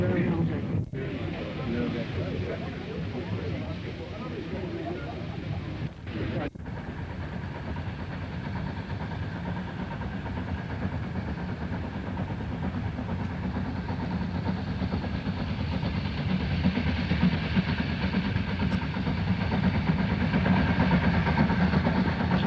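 A steam engine train on the East Lancs Railway gives a steady, rumbling mechanical drone that holds continuously and swells slightly toward the end, with a couple of brief breaks early on.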